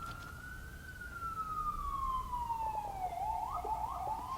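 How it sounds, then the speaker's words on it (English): A police car siren wails in the distance, a long falling tone that dips and then starts another cycle, faint and steady behind low background noise. "Does the sound of a police car in the background inspire any thoughts at all?"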